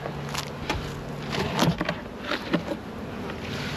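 Bees buzzing around beehives while robbing fondant in summer, a steady close hum with individual insects zipping past now and then.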